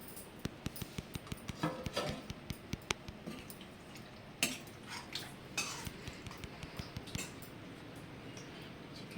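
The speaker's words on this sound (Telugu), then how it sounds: "ఇప్పుడు ఇందులో చికెన్ కర్రీ వేసుకుందాం." A spoon clinks and scrapes as chicken curry is served onto Muslim wedding-style ghee rice, with soft irregular taps and wet squishes that stay faint and close.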